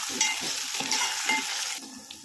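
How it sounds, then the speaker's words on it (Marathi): Chopped tomatoes stir-fried in hot oil for a dried bombil and drumstick curry, with a steady sizzle and rhythmic scraping strokes of a spatula, close and alone with no talk. "आता आपण टोमॅटो सोडूया ते सुद्धा परतून घेऊया"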